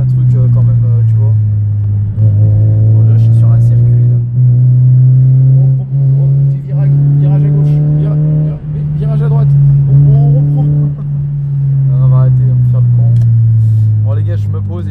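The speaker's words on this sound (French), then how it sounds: "Écoute, écoute, le rupteur." A Mazda 1.8 litre car engine holds a steady droning rev at the limiter, with brief periodic dips as the cutoff stutters, loud and close, while someone talks over it.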